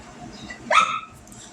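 A puppy confined in her kennel gives one short, close bark, set against a quiet indoor background with faint whimpering before it.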